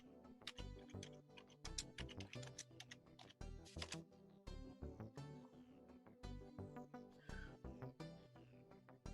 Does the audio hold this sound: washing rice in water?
no